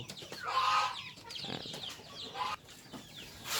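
Shamo Aseel chickens cluck in a backyard pen, a cluster of close, moderately loud calls with short pauses between them and no talking.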